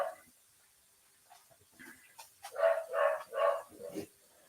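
A dog barking excitedly, a quick run of several sharp, medium-loud barks near the end after quieter whines and yips.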